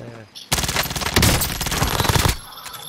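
Sustained burst of rapid automatic gunfire in the Warzone battle royale game, loud and close, roughly two seconds of fast repeated shots after a brief quiet start.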